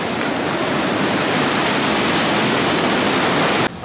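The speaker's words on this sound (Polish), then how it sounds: "fale aż się rozbijają o murek" Mexican ocean waves crash against a low seawall beside a beach, a loud, dense, continuous roar of surf that cuts off abruptly near the end.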